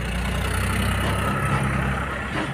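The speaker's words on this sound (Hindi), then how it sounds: "वो देखो फिर से आ गया ट्रैक्टर" A tractor engine runs steadily nearby, a continuous low rumbling drone that holds at an even level throughout without any pause.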